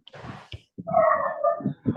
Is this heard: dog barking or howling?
yes